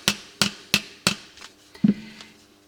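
A hammer strikes a metal strap four times in steady rhythm, bending and flattening it, then lighter taps follow and a final duller knock, close and clear.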